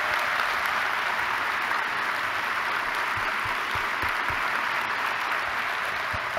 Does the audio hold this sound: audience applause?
yes